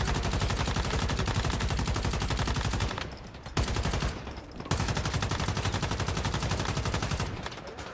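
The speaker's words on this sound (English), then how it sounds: "We got all these guys shooting at us right now." Enemy gunfire in the video game Once Human: sustained rapid automatic shots rattle loud and close, broken by two brief pauses before the firing resumes.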